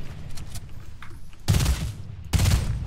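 Fortnite gunfire, with a quieter spread of shots early on followed by two loud, close blasts spaced about a second apart.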